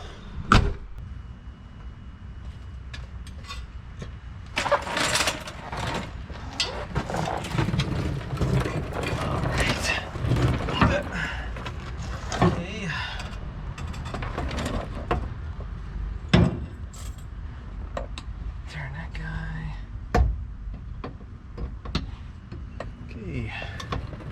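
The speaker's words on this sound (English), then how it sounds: "Front drive shaft is going back in." Front drive shaft going back into a one-ton Ford Bronco, heard as close metallic clanks, knocks and ratcheting clicks scattered irregularly through a workshop setting.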